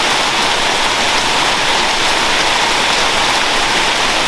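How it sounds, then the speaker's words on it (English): Heavy rain pours steadily, a dense, loud, unbroken hiss with no other sounds above it. "Yeah, so good quality rain."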